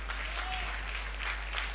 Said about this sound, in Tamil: கைத்தட்டி அவர் மகிமைப்படுத்த.